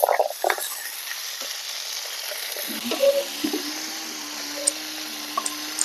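Raw tamarinds fry in oil for a tamarind and red chilli chutney, giving a soft, steady sizzle with a few light stirring knocks near the start and no talking.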